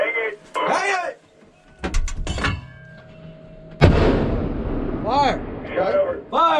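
Live-fire artillery shots boom during the Warrior Shield US-Korea combined field exercise, with several sharp blasts and echoing rumble, the loudest near the end, as people call out between firings.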